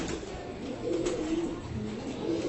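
Pigeons in a training coop coo softly and repeatedly, a few low rolling calls spread over a couple of seconds, fairly faint with faint room noise around them.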